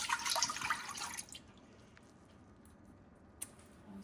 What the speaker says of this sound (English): This is the 2 cups of the pineapple juice and water. They're going to go in here.